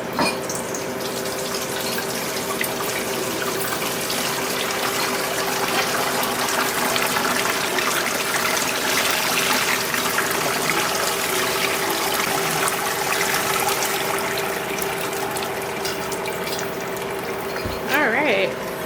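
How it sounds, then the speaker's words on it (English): Homemade chicken stock poured through a strainer, a continuous close gushing and splashing of liquid that holds steady throughout and ends with a few brief knocks. "now it's time to go ahead and put it through the strainer and get the rest of it all taken care of"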